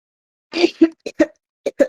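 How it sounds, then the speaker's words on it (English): A short burst of coughing, five or six quick, throaty coughs close to the microphone, with silence before it. "I'm really coughing today."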